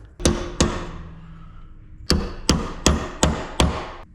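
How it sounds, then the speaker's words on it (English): Seven sharp metallic hammer strikes on a punch during a ZF S5-42 transmission teardown, two early then a pause, followed by five evenly spaced blows, close and loud. "We're going to get in here with a punch and a hammer."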